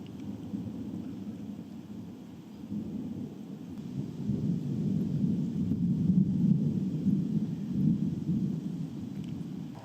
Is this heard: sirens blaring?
no